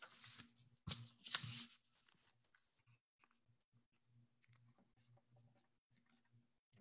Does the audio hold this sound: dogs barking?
no